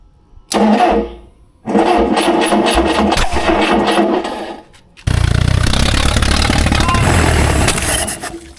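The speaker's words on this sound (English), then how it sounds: "First time starting the engine" A rare old engine, one of only two in existence, coughs briefly, then cranks and fires in a longer run. After a short dip it catches and runs loudly and roughly, close by.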